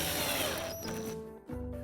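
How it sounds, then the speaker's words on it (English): A power driver whirs as a 35 mm screw is driven into a child's wooden chair, the motor note dropping as it bites, then briefly stopping and restarting close by. "I'm going to use some screws. These are about 35 millimeters, and then I can drive that in."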